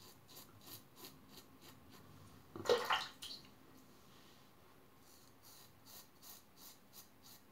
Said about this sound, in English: Now, the good news is, it is shaving reasonably well.